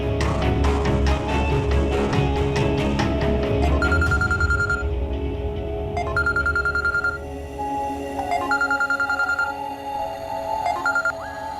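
A telephone rings over and over, its repeated electronic trill sounding in bursts over a steady bed of background music, with no talking.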